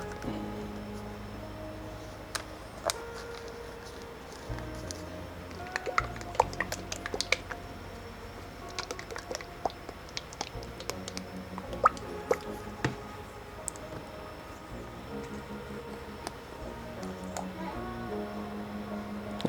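AK wet mud paint being stirred and mixed for miniature painting, giving small wet clicks, drips and squishy taps scattered irregularly over a quiet background, close and faint, with no talk.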